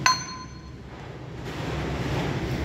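The metal hook on an Agri King 2055 four-wheel-drive tractor gives a single sharp, ringing clank at the start, then a low steady engine hum carries on alone.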